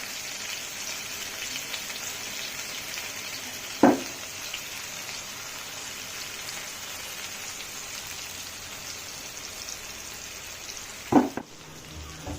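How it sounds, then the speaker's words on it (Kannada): Chicken pieces, about three quarters of a kilo, fry together on a single tawa over a medium flame, giving a steady rain-like sizzle throughout, broken by two short knocks of stirring or turning. "ಎಲ್ಲವನ್ನು ಒಂದೇ ಸಾರಿ ಒಂದೇ ತವಾದಲ್ಲಿ ಫ್ರೈ ಮಾಡ್ತಾ ಇದ್ದೀನಿ"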